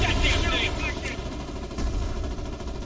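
Heavy gunfire and ricocheting shots in the war game Foxhole, a dense, loud continuous barrage with sharp pings over it and a voice talking beneath.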